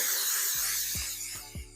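Cooking spray sprayed directly onto a pan, a loud continuous close hiss from a pressurised can, fading slightly toward the end, with a few low thumps under it.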